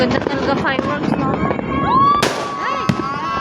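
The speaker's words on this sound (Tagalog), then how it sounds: "Ang ganda talaga fireworks, no?" New Year fireworks burst overhead with crackling pops and whistling rising streaks, loud and close, while people chatter excitedly throughout.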